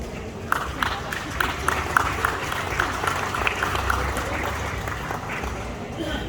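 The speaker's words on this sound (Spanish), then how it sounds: "Un aplauso para ellos." A crowd claps in scattered, uneven applause that carries on steadily, with some voices underneath, at a gathering in the Mixtec town of Abasolo del Valle, Veracruz.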